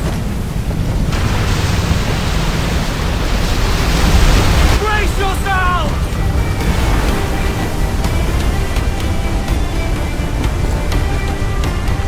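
A roaring waterspout and rough, churning sea in the pirate video game Assassin's Creed 4 Black Flag give a loud, steady wash of wind and water, with creaking and tonal game effects emerging midway.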